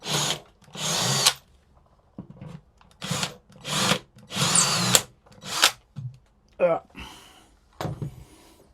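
Power drill driving screws into wooden battens, in about six loud whirring bursts of one to two seconds each with short pauses between, then a lighter rubbing and scraping toward the end.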